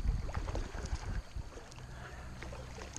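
A dropstitch inflatable paddleboard is paddled casually across open water, with a few soft paddle splashes and water sloshing under light wind noise.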